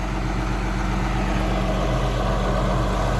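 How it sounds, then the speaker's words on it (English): A John Deere tractor engine idling, a steady low rumbling drone with a dense throbbing texture, loud and close throughout with no breaks. "I think I'll come in with the tractor and the bucket"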